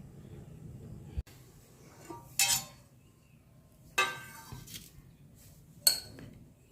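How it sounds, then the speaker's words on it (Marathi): A metal spoon loosening and stirring soaked sago pearls in a bowl, giving three sharp, separate clinks a couple of seconds apart over quiet background hiss. "चमचा घ्या आणि असं सुट्ट करा"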